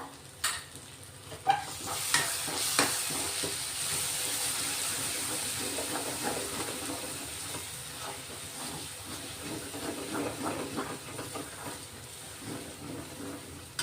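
Masala spices with red chilli powder and garam masala fry in a pan, a steady sizzle and hiss with a few sharp scraping taps from stirring, moderately loud and without any speech.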